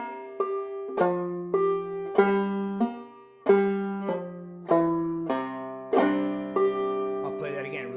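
Plucked acoustic string phrase in a drop-thumb style with a hammer-on, distinct single notes and chords ringing out in a steady rhythm, close and clear, no voice.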